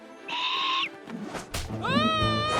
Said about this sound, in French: Cet oiseau est très en colère.